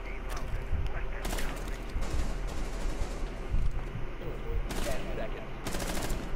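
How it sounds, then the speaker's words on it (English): Gunfire from the video game Rainbow Six Siege, with rapid automatic bursts and scattered shots that rise and fall across the scene, mixed with a player's voice talking over the action. "Bro, I'm wasting all these bullets. I just wasted a clip"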